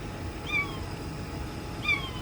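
Two short, high kitten meows about a second apart, from a kitten hidden inside a Tesla Model 3, small and a little distant over a steady low rumble.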